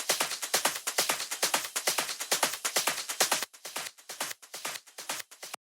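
Dance-style percussion loop without sidechain compression: a steady, fast run of bright shaker-like hits, each with a short decaying tail. It plays at an even level throughout with no pumping, slightly sparser and quieter in the second half, with no voices.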